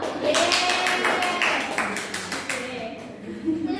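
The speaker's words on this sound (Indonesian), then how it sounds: "Sebelumnya tepuk tangan dulu untuk kita semua." A small classroom group claps together in a quick, even burst of applause for a few seconds, then it thins out and fades, with voices murmuring faintly underneath.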